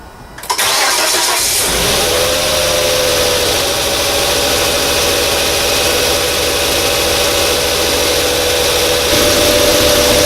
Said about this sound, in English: start the car now and Just make sure everything is okay before I actually tighten all my screws